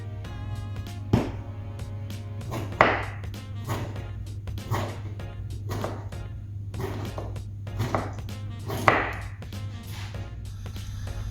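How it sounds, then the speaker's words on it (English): A knife roughly chops tomatoes on a cutting board, with a series of irregular, close thuds at uneven intervals over a constant low hum. "You can just roughly chop it."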